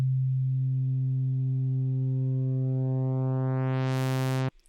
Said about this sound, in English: we are basically folding the sine wave into a sawtooth